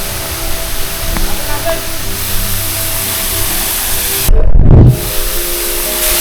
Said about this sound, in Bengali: এখান দিয়ে ঝর্ণার মিষ্টি শব্দ শোনা যাচ্ছে